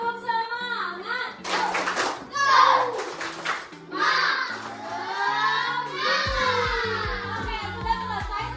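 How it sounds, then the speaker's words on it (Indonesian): Schoolchildren in a classroom do a rhythmic spirit clap, chanting together in sung phrases between bursts of clapping, with steady clap patterns near the end. "Tepuk semangat"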